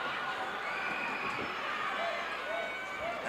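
A wrestling arena crowd screaming during a 1980 Gino Hernandez versus Mark Lewin rematch, a dense, steady roar of many voices with an announcer talking over it.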